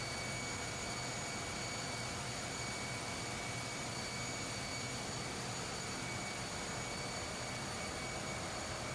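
Engine room machinery running aboard a ro-ro ship beside a generator's alternator end, a dense, steady roar with constant hum, loud and unbroken throughout.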